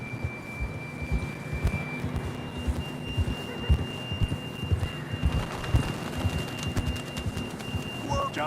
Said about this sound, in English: John was riding that horse when we left Blackwater